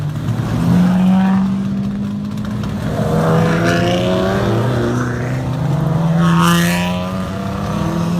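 Loud touring race car engines roar and whine continuously as cars rev and shift gears on a race track at Wallerfield, Trinidad, pitch rising and falling as they speed past.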